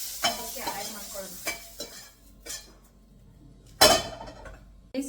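Ingredients lightly sautéed in a pan for pasta, with a utensil stirring and scraping in short separate bursts over a quiet sizzle and occasional metallic clinks, close and without speech.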